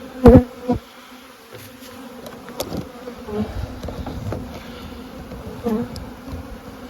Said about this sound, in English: This little one, these bees at the entrance.